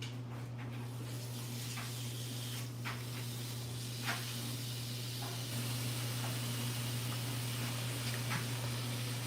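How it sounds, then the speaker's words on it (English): Steak searing in a hot pan, a steady sizzling hiss with a low hum beneath and a few faint pops, no talking. "I'm gonna now add in the steak because the pan is hot at this point"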